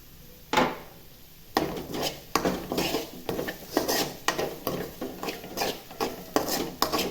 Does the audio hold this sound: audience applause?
no